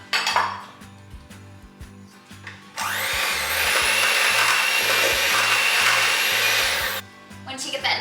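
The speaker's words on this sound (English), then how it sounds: "I'm just going to start blending that until it's fluffy" Electric hand mixer creaming softened butter with confectioner sugar, a loud steady whirring drone that starts abruptly, runs for several seconds and cuts off, with voices and clatter just before and after.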